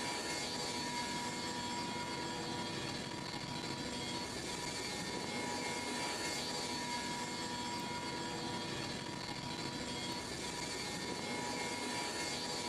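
Steady, loud engine roar from a Boeing CH-47 Chinook helicopter in a video game, a continuous droning whine and rotor rumble holding evenly throughout with no talking.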